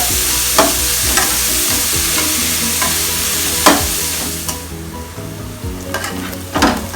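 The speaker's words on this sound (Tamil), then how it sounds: "இது கொஞ்சம் நல்லா வதங்கட்டும்." Onions, about 300 grams, sizzling steadily in a pan while a spoon stirs them with repeated scraping strokes, cooking down for an egg khurma in a home kitchen; no talking.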